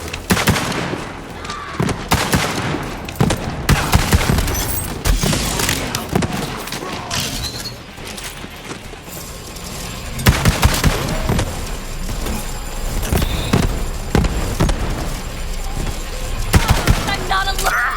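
Rapid gunfire from Borderlands 3 combat, dense bursts and thumping shots repeating throughout with brief loud peaks, set among game effects and occasional voice.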